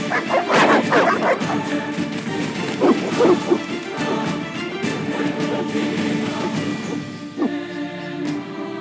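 Hostile dogs bark repeatedly in The Witcher video game, loud overlapping yaps and growling barks in clustered bursts amid crashes and a busy game soundscape.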